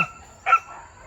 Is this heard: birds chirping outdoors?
no